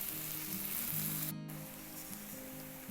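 Breadcrumb-coated Polish meat croquettes frying in oil, a steady close sizzle with a low hum underneath and a brief sharp clatter partway through.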